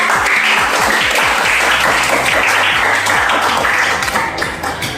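An audience claps in applause after a classroom presentation, a dense, loud, continuous wash of many hands that fades slightly near the end.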